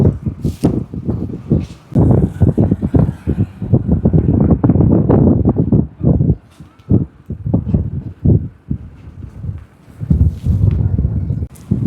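Gusty wind over water at Thol Bird Sanctuary in Gujarat roars against the microphone in uneven bursts, with brief lulls between strong rumbling blasts outdoors.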